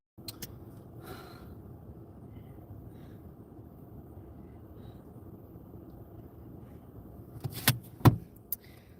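Steady low engine and road rumble inside a moving car, continuous and even, with a few brief clicks and rattles near the end.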